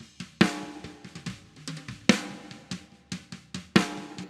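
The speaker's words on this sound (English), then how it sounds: "Now the snare sounds like this." Snare drum hits after dynamic EQ has tamed its ringing overtones, a steady pattern of sharp strikes with some softer ghost notes between them, close and dry with no one talking.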